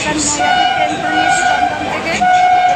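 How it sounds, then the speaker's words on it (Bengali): A local train running from Dum Dum toward Naihati, heard from inside a carriage: a steady, loud rumble of the moving train under continuous nearby talking. "এবার নৈহাটি ট্রেন ধরে নিয়েছি দমদম থেকে"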